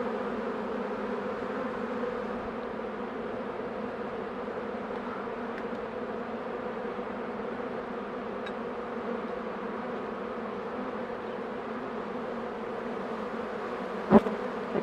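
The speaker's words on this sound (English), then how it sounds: "They're great bees." A steady, low hum of a swarm of bees buzzing fills the air throughout, even and moderately close, with a single faint click near the end.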